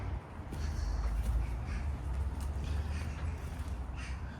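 Crows cawing in a cathedral garden in Peel, Isle of Man, faint calls scattered over a steady outdoor rumble of wind or distant traffic.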